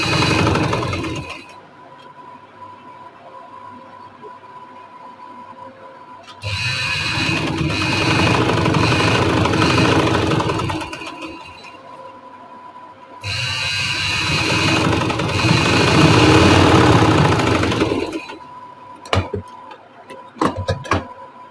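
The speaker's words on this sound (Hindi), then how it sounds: "सिलाई के ऊपर ऊपर सिलाई लगानी है।" A sewing machine stitches lace onto the slit of a garment in loud, sustained mechanical whirring runs separated by pauses, ending with a few short clicks.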